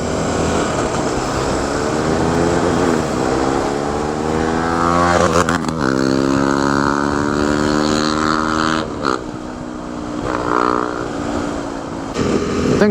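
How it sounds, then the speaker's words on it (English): A motorcycle on a road near Mudigere in Chikmagalur revs and rides, its engine pitch climbing through gear changes with a loud close drone that dips and rises again. "So if the motorcycle starts now, we are not going to stop."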